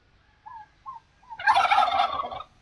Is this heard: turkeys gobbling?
yes